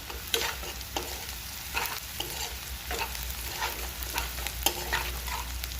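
Onions fry in a pan with coriander powder while a spatula stirs them, giving a soft continuous sizzle broken by repeated scraping strokes, close but fairly quiet, with no talking.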